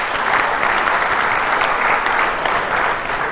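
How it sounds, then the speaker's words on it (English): Audience applause at a live public dialogue event, a dense and steady burst of clapping from a large crowd that holds at a constant loud level throughout. "I think it's important that we give him a round of applause,"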